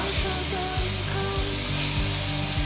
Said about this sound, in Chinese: 南瓜切很小丁，然後剛有放水，這樣子去炒